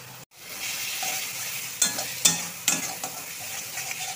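Food cooking in a pan is stirred, giving a steady sizzle with a few distinct spatula scrapes and taps against the pan after a brief cut at the start.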